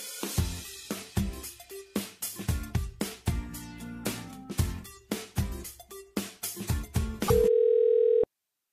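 A broken telephone line on a call-in radio show gives out a burst of jumbled clicks and tones, then one steady, loud, unbroken dial-tone hum that holds for about a second before cutting off.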